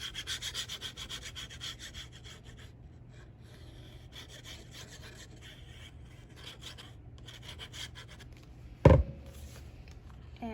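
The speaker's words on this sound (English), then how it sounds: "So I'm going to go ahead and burnish it." Cardstock is burnished by hand for a holiday folio album, giving soft repeated rubbing strokes, quiet and close, with a sharp louder scrape near the end and no speech.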